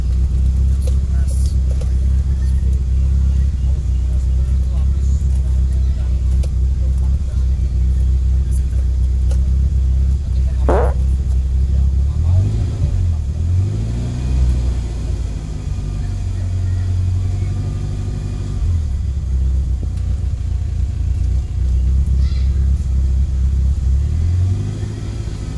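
A 1993 BMW 318i E36 with the M40 engine and automatic gearbox is driven, its low engine and road rumble steady throughout, with a brief rev rise midway while someone talks over it.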